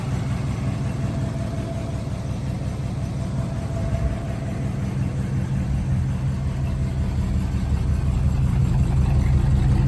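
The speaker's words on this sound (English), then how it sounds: "You can hear the exhaust." A 1955 Buick Special Riviera runs steadily at idle, its low exhaust rumble constant and close, growing slightly louder toward the end.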